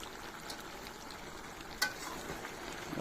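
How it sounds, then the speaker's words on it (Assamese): Boiled potatoes and mutton fry uncovered in a pan for a village-style mutton curry, a steady low sizzle with soft stirring and one sharp clink of a utensil partway through. "এতিয়া ধুনীয়াকৈ ভাজিম এইখিনি"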